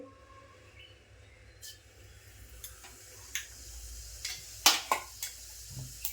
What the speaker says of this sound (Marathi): जिरं तडतडलं की आपल्याला कांदा टाकायचा आहे